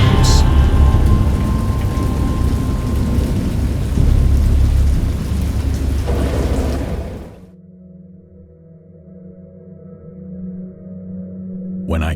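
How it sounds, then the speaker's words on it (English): Thunderstorm from the Lovecraft horror game Dagon, with dense, loud rain and deep rolling thunder for about seven seconds before cutting abruptly to a quiet low hum and faint tones. "I heard pearls of thunder and other tones which nature utters only in her wildest moods"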